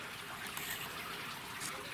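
A soft, steady trickle of Plum Run creek flowing through boulder caves beneath a boulder field at Gettysburg, muffled and hollow, continuous and fairly quiet.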